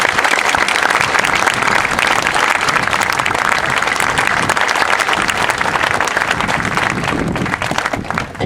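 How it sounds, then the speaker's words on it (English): Sustained, loud audience applause at a Marine Corps Officer Candidates School graduation ceremony, honoring the candidates' parents; dense clapping fills the whole stretch evenly and fades slightly at the end. "Ladies and gentlemen, a round of applause for all the moms and dads in the audience."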